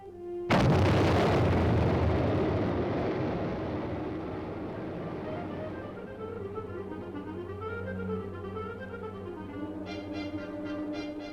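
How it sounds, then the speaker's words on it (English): An Honest John rocket fires during a military field exercise in Europe: a sudden loud blast at the start becomes a long roaring rumble that slowly fades, followed by steady tones that sound like background music. "The Honest John rocket is sent winging its way toward the heart of the enemy's forces."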